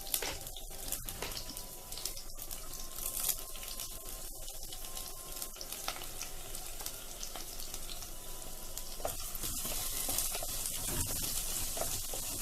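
Shallots, green chili, ginger, kodampuli and curry leaves sauté in a pan for a Kerala-style fish curry, giving a steady, soft sizzle throughout with occasional faint clinks of stirring and no voice.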